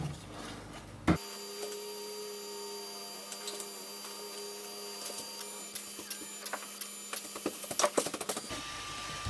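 A Kodak Step photo printer runs steadily while printing a photo, a continuous whirring drone with a faint mains hum and scattered light clicks and taps, louder clatters near the end.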